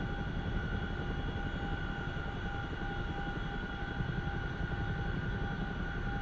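CH-47F Chinook helicopter in the DCS flight simulator, a constant droning rotor and engine hum with steady tonal whine, even and unbroken at moderate level, no voices.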